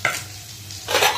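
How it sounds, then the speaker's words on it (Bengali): Onion stalks fry in a pan on a home stove, giving a brief close sizzle with a stirring scrape at the start and a louder hiss at the end, and no voices. "আর পেঁয়াজ কলি ভাজা হচ্ছে"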